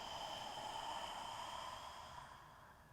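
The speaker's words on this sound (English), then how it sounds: "Open your mouth, exhale it out." A long, breathy exhale flows out through an open mouth during a beginner yoga flow. The airy rush is close and steady, then fades toward the end.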